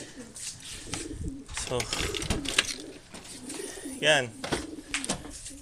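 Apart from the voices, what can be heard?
racing pigeons cooing during road training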